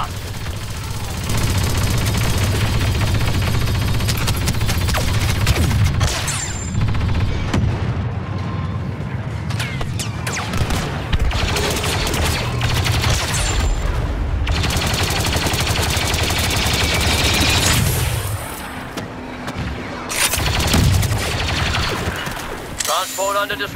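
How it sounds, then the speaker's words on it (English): Disruptor and blaster fire from the video game Star Wars Battlefront 2, set in a defense of the Wookiee homeworld: dense, continuous volleys and booming blasts, loud and close, with voices underneath. "Under disruptor fire"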